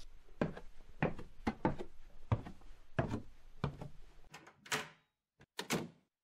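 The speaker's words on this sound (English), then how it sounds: "Ducky opened the door of my apartment and waved us inside." Radio drama effect of an apartment door opening: a series of evenly spaced wooden knocks or thuds, then a couple of sharper latch and handle clicks, close and clear.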